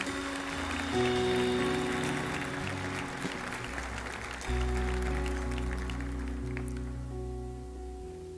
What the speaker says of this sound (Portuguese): Será que você pode aplaudir Jesus pela leitura do texto?